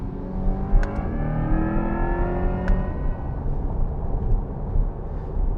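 A 2024 Corvette E-Ray hybrid under way, its electric motor whine rising in steady gliding tones over a continuous engine and road rumble, with two brief sharp ticks near the start.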